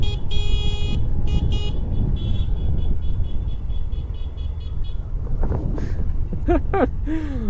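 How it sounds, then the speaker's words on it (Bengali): A vehicle horn honks several times in short bursts over the rumbling engine of a 125cc motorcycle and wind noise while riding in Purulia, followed by more honks toward the end. "আমাদের পিছনের একটা ছেলে হলে হর্ন দিচ্ছে।"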